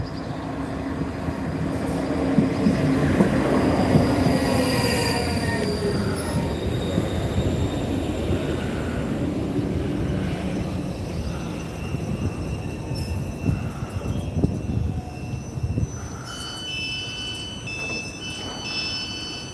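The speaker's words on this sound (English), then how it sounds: "That's 4 carriages, that one." A four-carriage train passes near Bellgrove station in Glasgow with loud, sustained wheel squeal and rumbling rail noise that fade gradually as it moves away.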